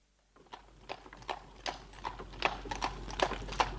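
Horse hooves clip-clop as the horse pulls a carriage through a city street, a steady, close, rhythmic trot whose hoofbeats start after a brief silence and grow slightly louder.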